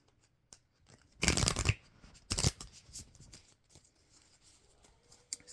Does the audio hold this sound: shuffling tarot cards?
yes